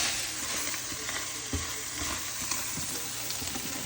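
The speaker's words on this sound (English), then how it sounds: "I'm getting the brown off the bottom of the pan. Stirring it up." Hamburger gravy sizzles steadily in a hot pan while a utensil scrapes and stirs browned bits off the bottom, close and continuous with no speech.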